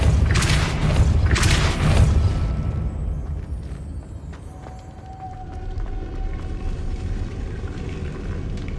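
Depulso spell cast in Hogwarts Legacy on PS5, a heavy booming blast with two strong bursts up front that fade into a rumbling, mechanical tail and a faint tone.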